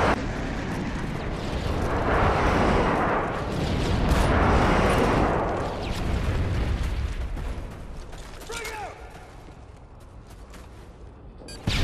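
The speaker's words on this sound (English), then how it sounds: "Delta airstrike on the way." Airstrike explosions rumble through a Call of Duty MW3 multiplayer match: broad, loud booming blasts swell and roll for several seconds, then ease into scattered mechanical clatter and debris before a final sharp burst.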